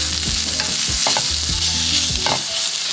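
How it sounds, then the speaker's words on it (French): Onion and mushrooms with parsley and coriander frying in a pan while being stirred, a constant sizzle broken by repeated scraping strokes of a utensil, no voices. "Et je viens mélanger le tout."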